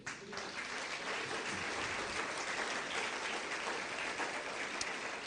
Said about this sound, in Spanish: Que le da un aplauso al Señor.